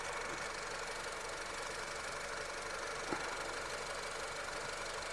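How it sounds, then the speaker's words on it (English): A warm 2013 Honda Civic engine idles steadily at low volume, a faint even hum with one small knock partway through and no talking. "So the car is running right now and it's warm."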